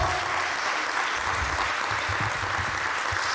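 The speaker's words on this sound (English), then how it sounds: "Give them a round of applause, please." Sustained audience applause at a Chicago youth homelessness fundraiser sleep-in, a steady dense clapping wash from a crowd that holds evenly at full strength.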